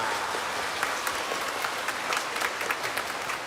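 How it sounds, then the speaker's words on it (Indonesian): A church congregation gives a steady round of applause at a sermon gathering, the clapping even and moderately loud throughout the short stretch. "Tepuk tangan untuk kalian."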